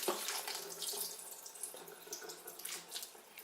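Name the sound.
tap water running while washing vegetables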